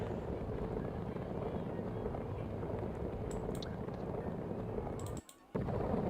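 Steady, dense rotor roar from a helicopter flying overhead during a cycling club handicap race, continuous and fairly loud, with a brief dropout near the end.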